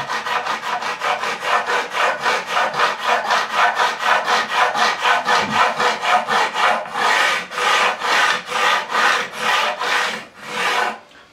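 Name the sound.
precision flat diamond file leveling guitar frets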